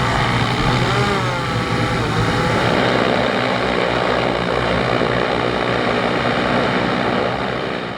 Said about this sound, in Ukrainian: Перед нами Кажан, важкий бомбер. Кажан, да, тяжелый ударный дрон.